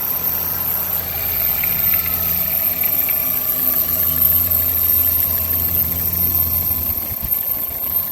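A 2002 Toyota Corolla engine idles steadily with a low, even rumble and slight mechanical ticking, continuous throughout with no talking.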